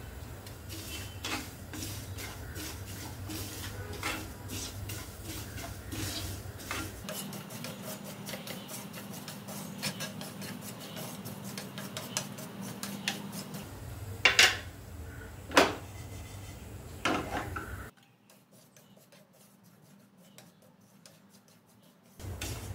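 Gavthi sesame seeds warming in a pan while being stirred, producing soft scraping and rasping with light taps of the utensil, a few sharper clinks near the end, then a quiet pause.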